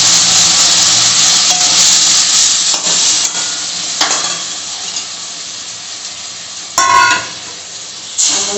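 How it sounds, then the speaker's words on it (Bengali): Ground onion and chili paste hit a hot frying pan of already fried pointed gourd and sizzle loudly and steadily, with a few sharper spits and crackles as it is stirred. "এখন আমি বেটে রাখা পেঁয়াজ আর লঙ্কাটা দিচ্ছি।"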